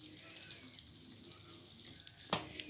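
About two cups of water, hot or cold, poured into a cooking pot while making bessara, a fava bean dish: a steady, faint rush of pouring water with a brief splash near the end and no talking.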